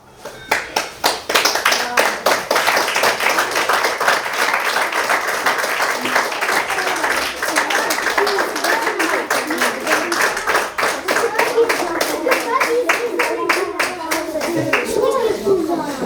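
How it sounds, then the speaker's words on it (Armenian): A school crowd claps continuously for several seconds at a Tumanyan anniversary event, a dense rapid patter of many hands, with some voices and children's chatter mixed underneath. "Դուք ծափահարեք մինչև երաժշտությունը միանա։"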